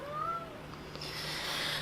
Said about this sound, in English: Gotta let the cat into the bathroom, Charlie.